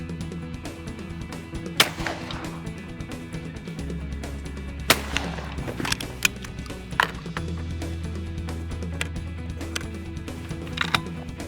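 Shotgun shots from a Fausti XF4 clay gun crack out several times at irregular intervals, sharp and fairly distant, over a steady low background hum.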